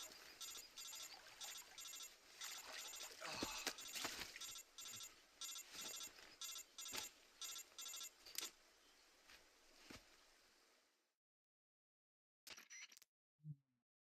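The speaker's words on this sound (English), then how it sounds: "Answer the phone, Snake." Telephone ringing in the video game Metal Gear Solid 3, a repeated electronic ring in a steady rhythm of bursts over game ambience, stopping abruptly before a pair of short blips near the end.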